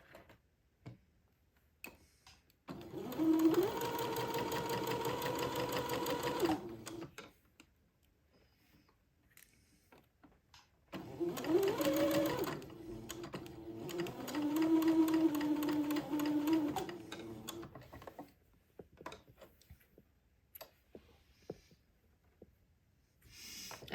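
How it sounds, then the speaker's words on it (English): Sewing machine straight-stitching entredeux to the shoulder of a baby's day gown, two bursts of rapid ticking stitches with a rising and falling motor hum, separated by quiet pauses with light handling clicks. "using a straight stitch, I'm going to sew the entredeux to the shoulder"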